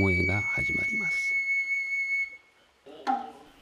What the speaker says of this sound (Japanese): 笛の音で能巴が始まります